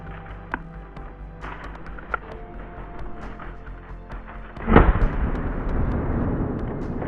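A hunting rifle is fired at a wild boar and gives one loud, deep shot near the end. Quiet outdoor ambience with a few faint ticks comes before it, and a rumbling tail follows.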